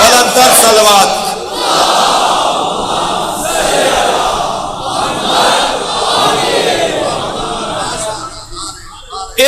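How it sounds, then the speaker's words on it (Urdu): A large religious gathering answers a preacher, a crowd loudly chanting salawat together in a sustained roaring unison that swells and ebbs over several seconds, dense and close. "بلندتر صلوات"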